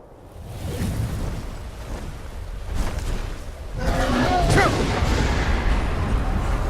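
In Skyrim, a dragon's fire breath and a shouted dragon wind power roar as a broad rushing blast that swells midway and stays loud, with a low rumble beneath.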